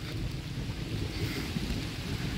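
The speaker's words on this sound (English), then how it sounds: "So I'm out in the rain." Rain falling outdoors in the countryside, a steady broadband hiss with low rumbling wind or handling noise near the microphone, continuous and without talk.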